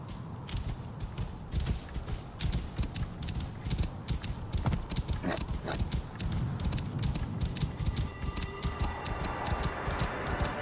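A horse gallops in Assassin's Creed Origins, a rapid, steady clip-clop of hooves close up, continuing evenly for several seconds with a faint creak and rising breeze near the end.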